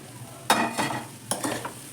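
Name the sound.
stirring soya chunks and egg fried rice in pan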